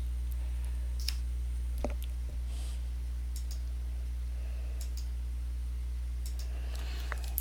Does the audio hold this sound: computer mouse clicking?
yes